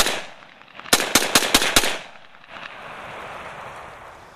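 Rapid volley of five sharp AMD 65 rifle shots fired with a sling, close and loud, evenly spaced, followed by outdoor rumble and hiss.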